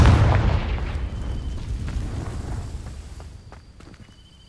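A fiery blast from the Confringo spell igniting dry vines in the video game Hogwarts Legacy, a loud low boom up front that fades into crackling rumble over several seconds.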